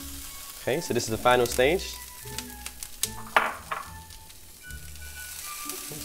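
Peppers for ratatouille sizzling in a hot pan, a close, steady frying hiss with a few stirring scrapes, while someone talks over it.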